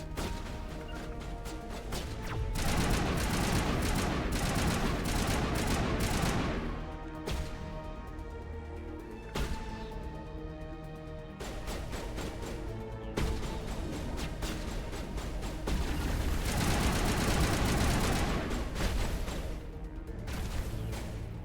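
Gunfire in the Mass Effect video game comes as loud, dense bursts of rapid shots and impacts, broken by short lulls, with game music and effects mixed underneath and no talk.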